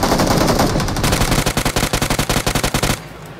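A loud automatic weapon fires in the mobile battle royale game BGMI, a sustained burst of rapid, evenly spaced shots that stops abruptly near the end.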